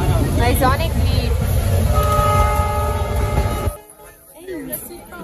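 A crowded passenger train rumbles loudly near Pachuria junction as its horn sounds a long sustained blast, with chatter from the packed crowd. Then the noise drops away sharply.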